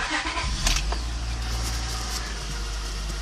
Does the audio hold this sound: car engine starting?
yes